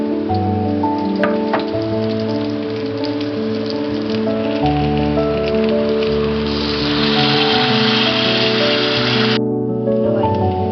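Continuous sizzling of Chinese glass noodles frying in a pan, a crackly rain-like hiss running steadily under louder background music.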